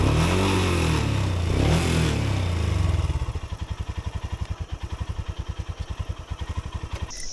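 A Royal Enfield Himalayan motorcycle engine with a clutch that won't engage revs loudly and roughly at first, then settles into a steady, close, thumping single-cylinder idle.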